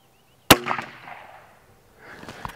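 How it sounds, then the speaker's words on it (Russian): A Retay .22 LR rifle fired while held tilted 90 degrees, giving a sharp close crack with a short decaying echo, then quiet and a second, softer report about two seconds later. "теперь у нас гангстерский режим винтовки John Wick, 90 градусов, готов сделать выстрел."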